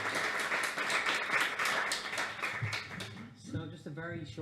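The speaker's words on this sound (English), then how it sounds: "Give him a round of applause before we go, yeah?" An audience claps a round of applause for a guest at the close of a talk event, a dense patter of hands for a few seconds that thins out as a voice takes over.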